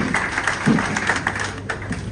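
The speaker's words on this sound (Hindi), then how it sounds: "जोरदार तालियां" A crowd at a local BJP party gathering in Kota claps loudly and continuously, a dense, even wash of hands that lasts the whole moment with little talk.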